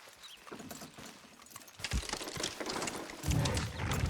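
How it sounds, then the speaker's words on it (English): Horses pulling a heavy load in Red Dead Redemption 2 on PS5, with hooves clip-clopping and a dragging, rumbling mechanical clatter that grows louder and denser toward the end. "Horses will pull it clean down."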